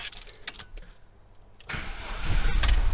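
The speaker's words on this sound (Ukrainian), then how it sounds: "Мені ж не терпиться спробувати, чи він стартане ще раз автомобіль." A car engine on a restored battery starts up: a few clicks and a short starter crank, then the engine catches and rises into a loud, steady idle close by.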